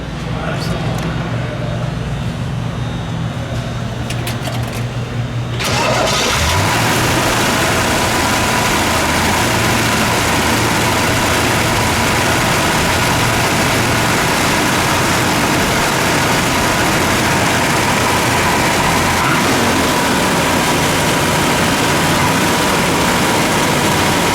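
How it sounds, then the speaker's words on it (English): A 1963 Chevrolet Corvette convertible with a fuel-injected engine and 4-speed cranks and catches after a few quiet seconds, then settles into a loud, steady rumbling idle close by for the rest. "Let's fire this one up, shall we?"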